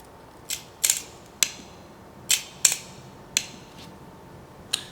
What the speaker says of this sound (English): you hear a slow shutter speed